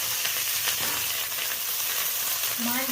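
Fish pieces dropped into hot oil with lightly fried mango in a pan, a loud continuous close-up sizzle and crackle with some stirring scrapes, a brief tonal squeak near the end.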